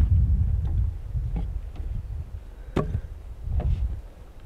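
A knife cuts open a bear carcass outdoors during a northern Saskatchewan hunt, with several separate short slicing and tearing strokes close up, a sharper one near the middle, over low rumbling wind.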